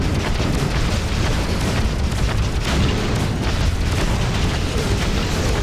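Torpedo blast in the space game Freelancer with the Crossfire mod: a loud, continuous deep booming rumble that fills the whole stretch, dense and sustained rather than a single sharp hit.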